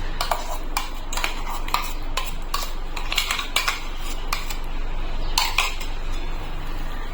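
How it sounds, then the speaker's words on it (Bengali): A spoon scraping and clinking against a metal bowl while mango paste is mixed into a mango laddu mixture, with quick, irregular strokes and taps close by and no voices. "আমটা দিয়ে একটু ভালো করে মিশিয়ে নেব"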